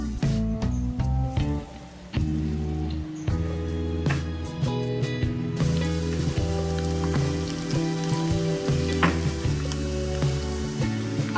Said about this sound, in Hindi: अदरक लहसुन हमारा फ्राई हो रहा है।